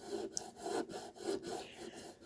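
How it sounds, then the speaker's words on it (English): Sanding a plastic model cockpit frame for a McFarlane 1989 Batmobile, a close rhythmic rasping rub in repeated back-and-forth strokes, steady and alone. "as you're sanding the frame here on the cockpit, make sure you get the sliding latches too"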